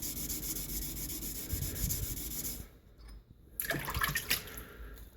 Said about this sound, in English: it's better to sand for a longer amount of time on higher grit sandpaper